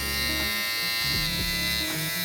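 A Kemei 1974B electric hair clipper runs with a steady, loud, close mechanical buzz. The pitch stays constant, and no one speaks over it.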